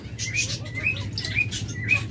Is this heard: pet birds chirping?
yes